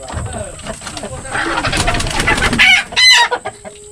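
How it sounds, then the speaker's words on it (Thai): Free-range chickens cluck close by while a rooster crows loudly near the end, with people talking over the birds. "ไก่เลี้ยงธรรมชาตินี่"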